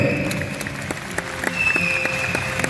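Audience applause at a dolphin show in Lahore, a steady wash of clapping at moderate distance with a faint tonal sound and occasional louder claps running through it.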